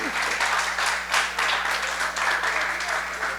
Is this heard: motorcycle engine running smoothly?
no